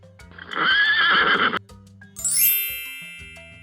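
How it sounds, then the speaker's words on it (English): A horse neighing: a loud, close whinny lasting about a second, followed by a bright chime and bell tinkle that fades out. "Horse. Horse is used to pull the chariots."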